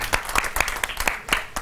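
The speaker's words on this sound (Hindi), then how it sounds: "भरपूर तालियों से नाज़रीन।" Studio audience applause at a televised Iftar transmission, a dense burst of many hands clapping at close range, steady and lively throughout the short stretch with no voices over it.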